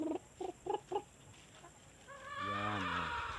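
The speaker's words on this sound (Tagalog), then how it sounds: "dami tayong alagang mga manok" A few soft, quick clucks come in short bursts, followed by a longer drawn-out call from a chicken, fairly close and alone without talk.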